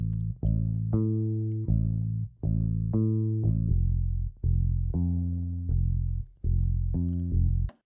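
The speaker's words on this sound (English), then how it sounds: "So I have one bass that is acting as an electric bass guitar." A synth bass voiced like an electric bass guitar and played on a MIDI keyboard runs through a steady riff of repeated plucked notes, clear and alone with no speech.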